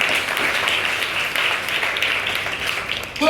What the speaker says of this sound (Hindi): इन सबके नाम भी आप लोग नोट करें और इनके लिए तालियां भी बजाएं।